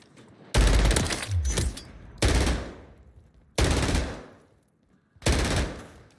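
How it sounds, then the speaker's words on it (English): A light machine gun fires in a video game in four long, loud sustained bursts separated by short pauses. "this is movement with an LMG."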